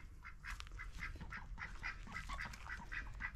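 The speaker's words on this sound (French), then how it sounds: "Regardez, les oies, les canards, tranquille." Repeated honking and quacking calls from a group of ducks and geese, fairly steady over a low background rumble.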